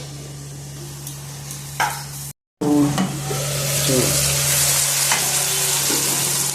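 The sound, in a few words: stirring carrot and pea curry frying in oil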